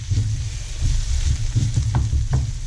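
Olives, capers, onions and fresh thyme bubble in a pan for chicken Provencale, a close steady sizzle with soft low popping and occasional stirring sounds.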